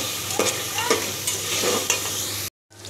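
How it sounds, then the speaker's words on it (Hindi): Chicken browning in a pan for restaurant-style chicken noodles, a steady close sizzle with a few scraping stirs of a utensil, then a brief silent break before the frying resumes, with no talk. "ये चिकन मैंने अच्छे से फ्राई कर रही हूँ"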